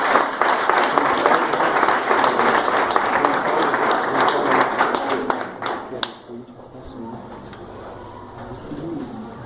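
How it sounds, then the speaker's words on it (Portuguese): A church congregation claps together in a loud, sustained round of applause that thins out and stops after about six seconds, leaving a quieter room. "Dê uma salva de palmas a esse Deus maravilhoso"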